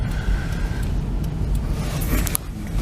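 A 1995 Chevy Astro van cruising on a highway in Montreal, heard from inside as a steady low road and engine rumble with broadband tire hiss, continuous and fairly loud throughout.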